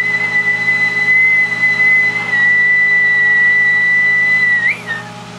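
A single sustained whistled tone into a radio microphone through a Black Cat JB-2000 linear amplifier at about 1000 watts, loud and steady with a slight waver, over a constant electronic hum before dropping briefly near the end.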